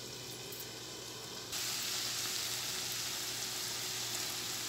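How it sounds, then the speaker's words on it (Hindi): Chicken frying in a pan for vegetable spaghetti gives a steady, dense sizzle that grows louder partway through and then holds at that level with no talking. "चिकन मेरी काफ़ी हद तक सॉफ्ट हो गई तो अब मैं इसे थोड़ी सी इसकी और भुनाई करूँगी"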